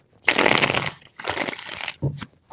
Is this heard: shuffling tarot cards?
yes